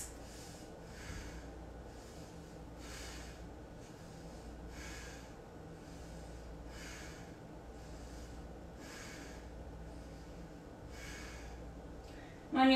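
Heavy, steady breathing during a yoga headstand, with slow rhythmic breath cycles repeating roughly every second or two, close to the microphone and alone over a continuous low background hum.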